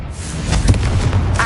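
Confringo fire spell cast in Hogwarts Legacy on PS5, a dull booming blast with a thudding low body over about a second and a half, fairly loud and steady, with no talking.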